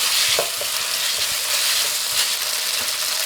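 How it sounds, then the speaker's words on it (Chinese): Scallions and chopped glass noodles keep frying in a wok, a constant close sizzle with repeated light spatula scrapes and tosses at an uneven rhythm, no voice heard. "继续翻炒"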